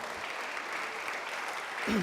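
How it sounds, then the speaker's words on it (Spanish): A church congregation applauding during a sermon, a steady even wash of many hands clapping at moderate volume, with a brief voice or tone rising at the very end. "Démosle un aplauso al Señor."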